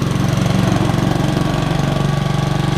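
Honda commercial self-propelled lawn mower engine running close by as the mower moves along on its own, a loud steady rapid chugging pulse with no talking.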